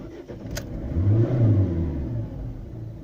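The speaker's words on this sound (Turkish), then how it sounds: "Bir marş yapalım bakalım nasıl bir şey oluyor." A diesel car engine is cranked with the accelerator pressed to the floor: a loud, continuous starter-and-engine rumble that swells and holds through the clip, with a brief click near the start and no talking.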